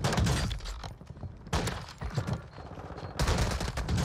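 Rapid bursts of gunfire in a shooter video game, loud and dense, with a short lull before the shots resume.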